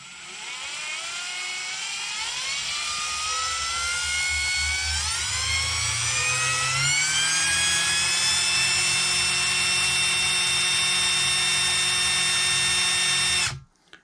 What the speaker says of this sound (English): putting it in a drill and turning it around slowly